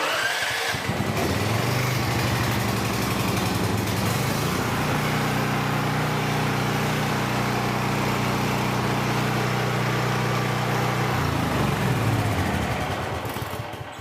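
A Champion generator engine fitted with a replacement carburetor cranks and catches, then runs loud and steady with a constant buzzing drone close by, winding down briefly near the end.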